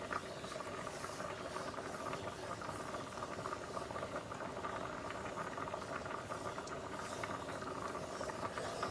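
Chicken fettuccine Alfredo sauce made with heavy cream and Parmesan simmers in a pan, giving a steady, close bubbling hiss with a soft crackle that keeps on evenly with no talk.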